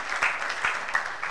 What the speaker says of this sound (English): Give the Lord a mighty clap of him